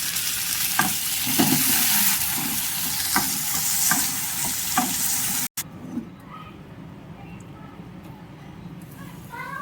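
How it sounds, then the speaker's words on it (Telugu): Gokarakaya fries in a little oil in a kadai, a steady close sizzle broken by a few sharp utensil taps and stirs, then the sound cuts briefly and returns quieter. "కొద్దిగా ఆయిల్ వేసుకొని వేయించుకోవాలి"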